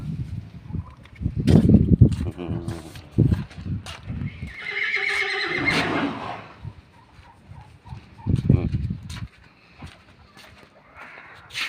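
A large horse on a farm whinnies loudly in a long, wavering call, with a few nearby snorts and clip-clopping hooves around it.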